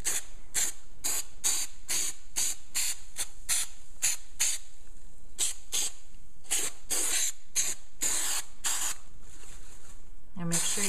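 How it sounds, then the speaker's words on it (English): A spray can of glue is sprayed onto a motorcycle trunk lid for a Victory Cross Country Tour trunk install, in a rapid series of short, sharp hissing bursts with brief pauses between them, close and loud. "We're going to spray the lid."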